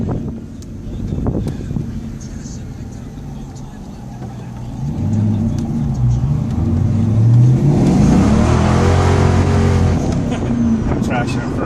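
A modified, turbo-prepped Ford Mustang revs hard while accelerating in first gear, its engine note climbing loudly in pitch and staying strong to the end, with engine noise building from a lower rumble early on.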